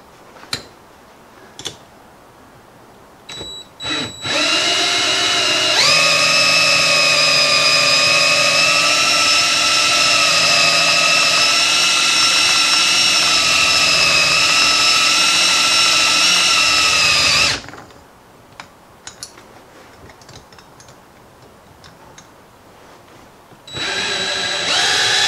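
A power drill runs steadily for about twelve seconds, driving screws into homemade bank rod holders, loud and close, with short bursts and handling clicks before and a brief restart near the end.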